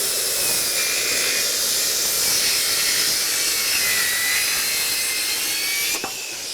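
Corded circular saw rips a wet 2x8 board with an old blade, giving a loud, steady high whine that holds for several seconds before the cut ends and the motor drops off.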